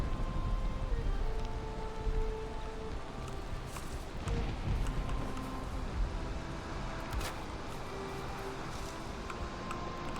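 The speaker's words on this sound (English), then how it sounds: "That's so much rain." Heavy rain pours steadily in the survival game Valheim, a dense continuous hiss of droplets throughout, with faint low rumbles beneath and no talking.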